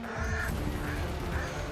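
A crow caws three times in a fight with a falcon, the harsh calls standing out over a loud, steady rumbling background.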